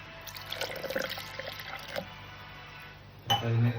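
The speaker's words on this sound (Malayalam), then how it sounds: "അര ഗ്ലാസ് വെള്ളം കൂടി ഇതിനകത്ത് ചേർത്ത് കൊടുക്കണം" Half a glass of boiled and cooled water poured into a mixer jar, a short splashing trickle up close, followed by a brief louder hum near the end.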